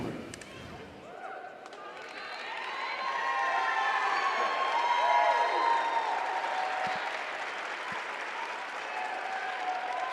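Crowd applauding and cheering for a player at a 2021 girls' all-star lacrosse game, a broad wash of clapping that swells and holds steady, loud and close, with crowd voices mixed in.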